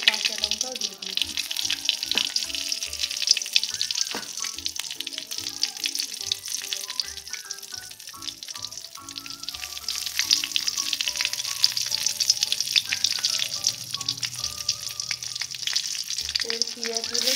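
Green chili sizzles in hot oil with onion masala for ghugni, giving a continuous, bright frying hiss close by, with a few faint clinks beneath it.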